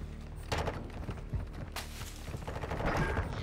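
Video game gunfire, with a few sharp shot bursts and scattered cracks over a busy, continuous background of game noise, at a moderate level.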